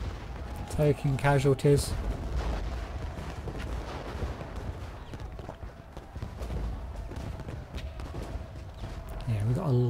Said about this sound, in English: Now Perry's under fire from the artillery.